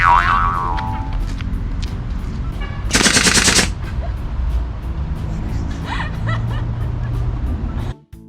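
Paint-filled balloons popped with a pin onto paper for a children's painting game, giving a loud crackling burst in the middle of the clip amid steady background noise and a few short squeaky sounds.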